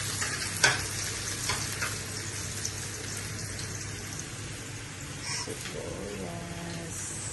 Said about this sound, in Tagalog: Magigisa na tayo.